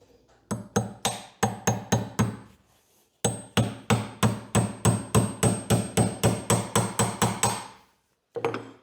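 Sharp hammer blows drive a cross pin back into a TDM DualShift transmission during installation, landing in two quick rhythmic runs of about ten to fifteen close, loud metallic strikes with a brief pause between, then one final hit.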